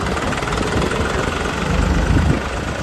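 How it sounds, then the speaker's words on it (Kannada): A tractor engine runs steadily at idle, a continuous low rumble and mechanical vibration that stays close and fairly loud throughout, with no voices over it. "ಟ್ರ್ಯಾಕ್ಟರ್"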